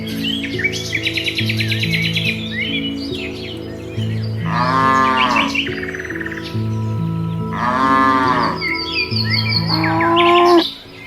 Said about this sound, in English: The cattle must be protected, guided, and sustained through drought, through long journeys,